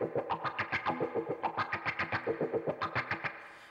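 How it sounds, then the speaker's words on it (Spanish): Electric guitar run through a budget effects unit with the wah pedal engaged, a rhythmic strummed pattern of about twenty quick chord stabs with sweeping tone, played alone and fairly quiet, ending in a fading ring. "Vamos a prender el wah."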